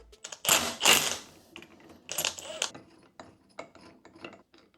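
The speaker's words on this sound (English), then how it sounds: "All right, so we got our flywheel puller on. I'm gonna go ahead and remove the flywheel." A flywheel puller on a 2017 Yamaha YZ250F engine is worked with a ratcheting tool, giving a few loud, close clicking bursts followed by fainter mechanical ticks and rattles.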